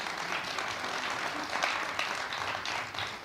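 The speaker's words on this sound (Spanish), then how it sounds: "un aplauso para el caballero." An audience at a lecture applauds a man, a steady wash of many hands clapping at moderate distance that holds evenly for a few seconds.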